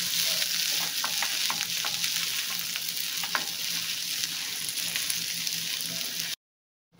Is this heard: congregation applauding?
no